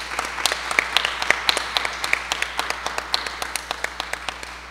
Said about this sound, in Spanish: Yo pido un aplauso para el artista Juan Carlos Velasco, por favor